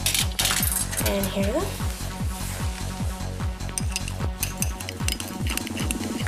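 A stirring rod mixes ammonium in a lab container, giving a fast, steady run of bright clinks and scrapes against glass, with a brief voice over the top.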